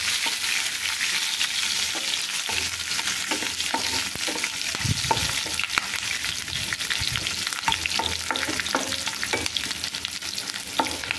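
Onions sizzle and fry in a pan for an Odia vegetable rava upma, a steady crackling hiss broken by repeated scraping stirs, close and continuous with no talk.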